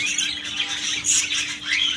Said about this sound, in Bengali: এদিকে আছে বাচ্চা সহ বাজরিকা পাখি